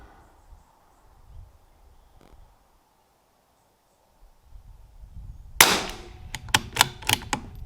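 Five sharp, close .22LR rifle shots fired with Lapua Center X match ammunition ring out in quick succession after several quiet seconds on an outdoor range.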